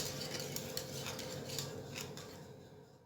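A spoon stirring kiwi muhallebi pudding in a pot, giving a steady scraping, clinking sound against the metal that runs close and moderately loud throughout, with no talking.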